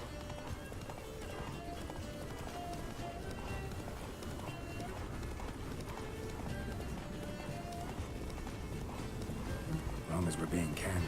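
Roach the horse gallops in The Witcher 3: Wild Hunt, with steady drumming hoofbeats running throughout against game background sound, and voices talking over it.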